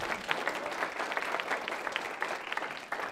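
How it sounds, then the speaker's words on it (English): Audience applauding at a university lecture event: a steady, even patter of many hands clapping that fills the room at moderate volume, with no voices over it. "Now let me have you clap for this."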